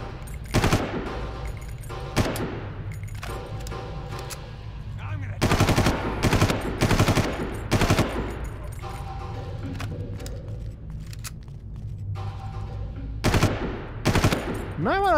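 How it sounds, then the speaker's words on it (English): Loud bursts of automatic gunfire from the player's weapon in the Far Cry video game, several separate rapid volleys with quieter in-game ambience and distant shots between them. "Don't like the fact that I'm shooting through that gas"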